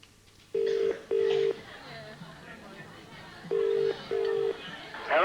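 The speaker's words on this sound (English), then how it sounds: "Let's get dialing." Push-button telephone dialing on a 1993 television show, with four steady touch-tone beeps in two pairs over quiet background room noise.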